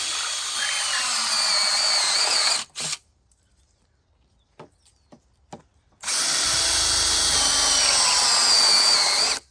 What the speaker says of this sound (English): I put a 4-inch cap, and I use this drill bit